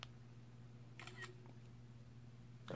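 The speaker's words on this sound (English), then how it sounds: "I'm going to click the watch and you're going to take a photograph on the iPhone." An iPhone camera shutter fired remotely from a smartwatch button gives a faint, short click burst over a quiet steady hum, followed by a softer tick and another brief sound at the end.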